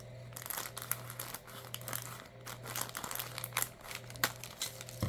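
Paper cut in half for a junk journal, a close, continuous crinkling and rustling of handled paper with soft crisp snips and a low steady hum underneath.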